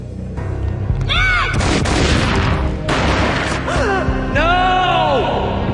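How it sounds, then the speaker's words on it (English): Booming gunfire bursts in Max Payne Mobile over a dense, loud mix with voices, one shot after another amid chaotic action and shouting. "A gunshot boomed and she fell down in slow motion."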